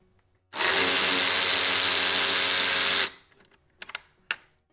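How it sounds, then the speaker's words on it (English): A power tool on a Ford Bronco removes 10 mm bolts near the grille. It sounds as one loud, close, steady whirring burst of about two and a half seconds, followed by a few faint clicks and knocks. "you're going to need to remove these 4 10 millimeter bolts."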